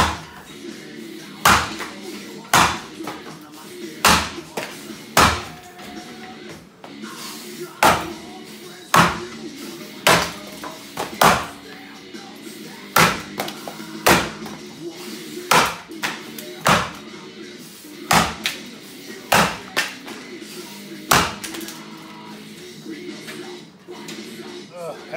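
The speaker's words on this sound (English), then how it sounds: "So it's almost like this woolly butt axe is too thin to cut this firmer stuff." Repeated sharp thwacks of a woolly butt axe biting into firm poplar wood, about twenty strikes at a steady, slightly uneven rhythm, close and loud over a faint background hum.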